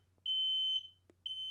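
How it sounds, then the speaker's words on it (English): A home smoke detector fire alarm sounds two loud, shrill electronic beeps, the first long and the second starting after a short gap, with a faint click between them and no talk. "Thank you very much, fire alarm."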